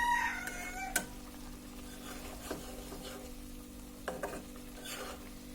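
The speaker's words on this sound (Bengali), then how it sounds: "এখন এটাকে আমরা একটু ভালোভাবে নেড়ে দিব।" Fish chorchori with coriander leaves being stirred in a pan: a few separate scraping strokes at a slow, uneven pace over a faint sizzle and a steady low hum.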